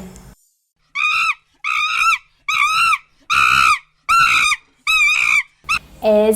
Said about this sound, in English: It's a monkey.